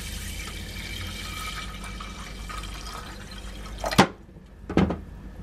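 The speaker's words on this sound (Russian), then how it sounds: "Заливаю водой." Water pours into a pot of washed rice as a steady gush that runs for a few seconds, ending with a couple of sharp knocks and splashes.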